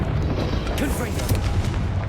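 A Confringo blasting curse explodes in the Hogwarts Legacy video game, a dense, roaring boom that stays loud across the whole moment, with a voice mixed into the din.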